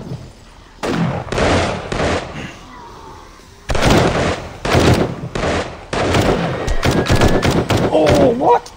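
Rapid gunfire at zombies in the survival game 7 Days to Die comes as loud, close bursts of repeated shots in several clusters, separated by brief quieter gaps.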